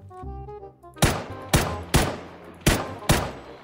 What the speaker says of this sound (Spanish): Escuchó los disparos y se fue para un lado